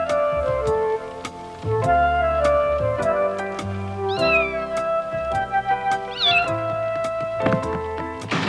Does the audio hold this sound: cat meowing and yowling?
yes